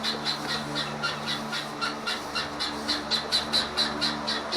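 Guinea fowl squawk in a rapid, rhythmic series of harsh, scratchy calls, close by and fairly loud, over faint background noise.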